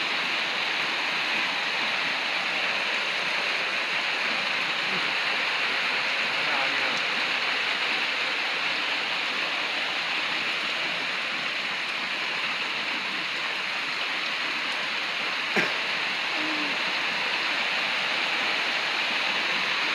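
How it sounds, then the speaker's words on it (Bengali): Heavy rain pours down outside a shop in a constant, close, hissing roar, loud and even throughout, broken only by one brief sharp tap. "প্রচুর বৃষ্টি হইতে আছে আমাদের আমাদের এদিকে দেখেন বৃষ্টির কি অবস্থা গতি দেখেন"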